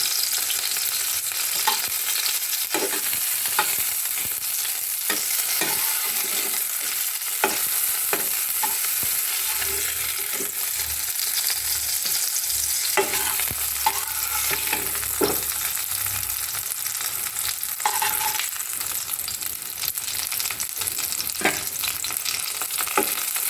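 Pieces of fish fry in oil in a pan for a curry with peas, capsicum and potato, sizzling steadily and close up, with frequent sharp crackles and spatters and no talk.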